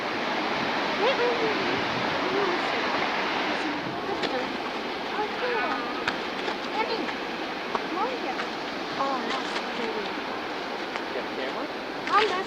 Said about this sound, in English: This is Umbine Falls